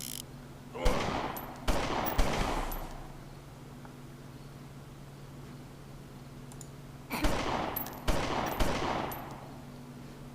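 Two bursts of rapid gunfire in the video game Omerta - City of Gangsters sound at the start and two more near the end, separated by a quiet stretch with a low steady hum.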